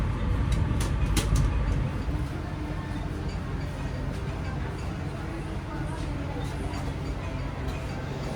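Argo Dwipangga passenger train rolling along the rails on the Jakarta–Solo line, a steady low rumble and rattle heard from inside the carriage, with a brief louder swell near the start and faint voices in the background.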